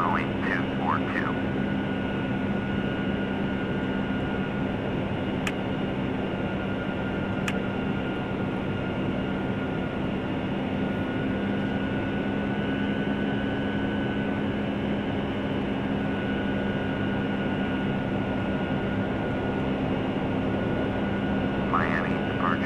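Steady, loud drone of a QualityWings Boeing 757-200 climbing out of Miami in a flight simulator, a continuous engine roar and hum throughout with faint radio voices briefly at the start and end.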